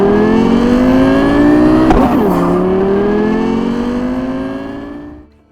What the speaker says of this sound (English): That is, until you step on the gas and experience all